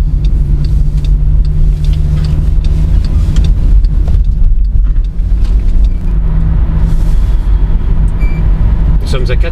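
Inside a petrol Volkswagen Caddy cruising at 80 km/h, a steady low road and engine rumble fills the cabin throughout at an even level, with occasional faint speech.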